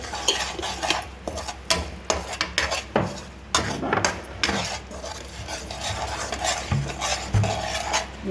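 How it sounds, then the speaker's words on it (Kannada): A utensil scrapes and clinks steadily against a pan as dabeli masala is stirred and fried in oil for street-style Gujarati dabeli, with a faint sizzle beneath the irregular, close metallic strokes. "ಸ್ವಲ್ಪ ಮಸಾಲೆನ ಚೆನ್ನಾಗಿ ಫ್ರೈ ಮಾಡ್ಕೋಬೇಕು."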